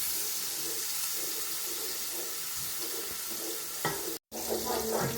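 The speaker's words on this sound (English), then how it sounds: "I'm going to saute my onions and garlic." Onions and garlic sauté in a hot pan as the base for a sauce, giving a steady close sizzle with a few soft stirring scrapes and one brief dropout.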